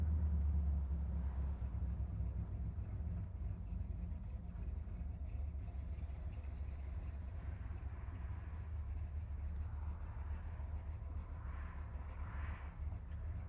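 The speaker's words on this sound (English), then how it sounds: "Car's idling real nice to the traffic light." A 1968 Chevrolet Camaro built in SS style idles at a traffic light, its engine giving a steady low rumble heard from inside the car, with no talking over it.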